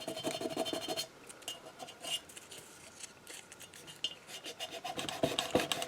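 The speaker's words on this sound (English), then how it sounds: "So I'm just going to take this sandpaper and just kind of do a little bit of rough sanding around this" A painted glass mason jar rough-sanded by hand with 100 grit sandpaper, close rasping strokes in short repeated bursts with brief pauses between.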